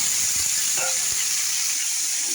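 Potatoes fry in a wok, giving a bright, steady hiss and sizzle with a few soft knocks early on, near and constant throughout.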